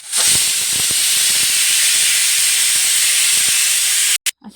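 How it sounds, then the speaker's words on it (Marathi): A pressure cooker whistle on a batch of spiced rice lets out a loud, steady hiss of escaping steam that holds for about four seconds, then breaks into a few short sputters. "अशा प्रकारे आपल्या 2 शिट्ट्या झाल्या"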